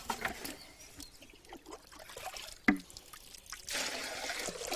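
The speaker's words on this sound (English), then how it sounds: "is scooping out the water" Water being scooped by hand from a mountain spring in the Carpathians: faint trickling and dribbling with a sharp splash midway, then a louder rushing pour near the end, close by.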